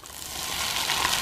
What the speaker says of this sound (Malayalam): കടുക് പൊട്ടിക്കഴിഞ്ഞു, അതിലേക്ക് 1 കതിർ വേപ്ര, പിന്നെ 2-3 വറ്റൽമുളക്